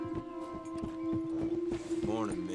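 Horse hoofbeats while riding in Red Dead Redemption 2, quick rhythmic clip-clop of a trotting horse close by, under someone talking, with a brief whinny-like sound near the end.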